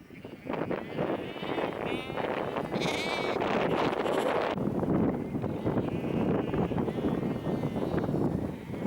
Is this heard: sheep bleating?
yes